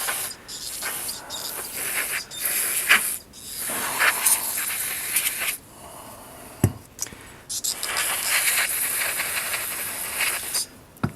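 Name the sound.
spraying aerosol brake cleaner into Husqvarna lawn mower carburetor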